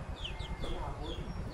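Chicken clucking, several short upward chirping calls close by and fairly quiet, interspersed with low rumbling handling noise and a person talking.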